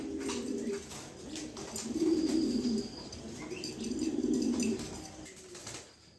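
Pigeons coo in soft, low repeated rolling phrases, two or three clear bouts close by, with a few faint chirps and rustles between them.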